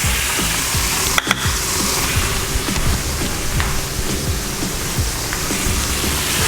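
Beef and onions searing in a hot cooking pan, a loud, steady sizzle with crackling pops, occasionally broken by a clatter of utensils.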